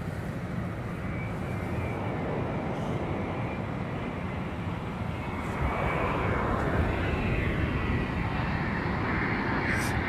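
Boeing Dreamliner airliner at London Heathrow, a continuous broad jet roar with low rumble that swells slightly midway, steady and fairly close, with no talk over it.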